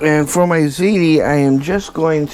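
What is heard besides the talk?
None of the usual background noises is heard.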